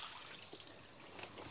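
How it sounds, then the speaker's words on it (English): Soapy bleach water poured onto a cow to clean off debris, a soft, steady splashing trickle at close range with no talk. "I pour that on here so that I can actually scrub off"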